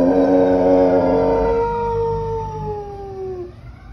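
A golden retriever howls loudly at an ambulance siren in long, wavering wails that rise and fall, the siren's tone sliding alongside it, the howl fading out near the end.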